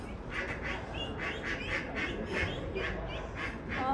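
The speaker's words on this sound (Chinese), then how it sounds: "鸭子下楼梯" Two pet ducks at the Chinese embassy in France walking down stairs give a fainter, steady run of repeated quacks, roughly evenly spaced, with a soft background hum beneath.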